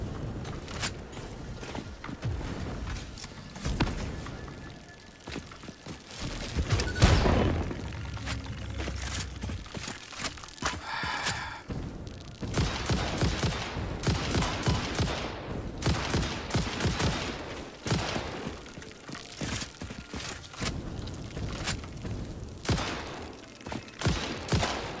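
Sustained gunfire in the video game Satisfactory, dense crackling bursts of shots running nearly continuously at moderate loudness, with some mechanical clatter mixed in and no speech.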